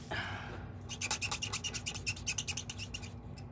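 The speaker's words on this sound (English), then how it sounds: "Makes a lot of noise, doesn't it? I have squeaky pens." Rapid squeaky scratching of a marker pen on paper, a quick run of short rhythmic strokes, close and fairly quiet.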